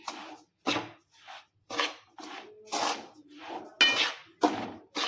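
Semolina (rava) is roasted in a pan over a low flame while being stirred, giving about eight evenly spaced scraping strokes of a spoon against the metal with light clinks, fairly close and moderately quiet.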